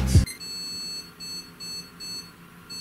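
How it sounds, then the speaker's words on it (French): A short burst of noise, then a series of high electronic beeps from a salvaged PC at startup, repeating at a steady pace, fairly quiet. "Bip de démarrage. Ah, deuxième bip, c'est pas très bon signe."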